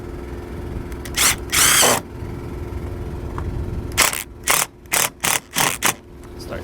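Cordless drill driving hardware while a baggage lock actuator is installed, one longer whir near the start followed by a rapid series of short, close trigger bursts as the fastener is tightened down.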